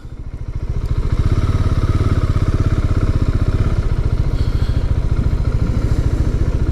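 Husqvarna Svartpilen 701 single-cylinder motorcycle on a test ride, engine loud and close with a steady rapid thumping pulse that swells in the first second then holds evenly, no talk.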